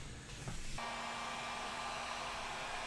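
A dryer blows hot air over zinc primer on a classic Mini car bonnet, giving a steady whooshing, motor-driven drone that shifts pitch slightly as it starts and then holds constant, with no voices.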